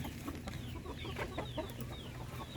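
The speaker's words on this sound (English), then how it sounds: "he's a little rooster that we're gonna get rid of" A little rooster clucks in short, soft bursts close by, a run of small throaty calls over a quiet farmyard background.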